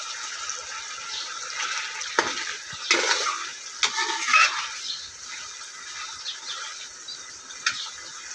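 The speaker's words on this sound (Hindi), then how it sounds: "उस तो बाद चिकन ऐड करांगे, चिकन नू अच्छी तरह फ्राई करांगे" Chicken frying in a pan with salt gives a steady bright sizzle and hiss. A few sharp scraping clatters from stirring cut through it, and there is no talking.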